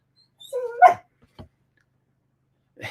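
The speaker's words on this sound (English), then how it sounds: "Why are you barking at me?" A dog gives a couple of short barks with a whiny, yelping edge, followed by a brief quiet gap and another bark near the end, close by indoors with no talk.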